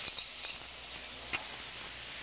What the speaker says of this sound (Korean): 이제 새우는 여기서 잘 튀겨지고 있고